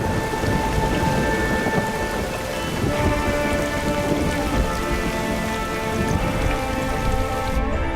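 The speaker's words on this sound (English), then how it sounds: "Frequent, unforgiving thunderstorms batter the landscape almost every day." A tropical thunderstorm over a Colombian rainforest landscape, with steady heavy rain hissing on foliage and rolling thunder rumbling continuously through the downpour.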